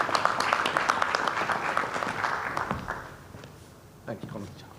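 Round of applause from a seated audience at a conference welcoming a speaker, dense steady clapping fading out over a few seconds, followed by a single voice starting to talk.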